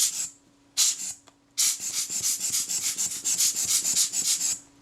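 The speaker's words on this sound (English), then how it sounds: "making sure that that naphtha is worked in there, that all the levers have been moved and the naphtha's got behind everything" Rolleiflex Automat TLR camera mechanism being worked over with naphtha solvent, a close, hissy rubbing and scrubbing in short bursts, then a long run of quick rhythmic strokes.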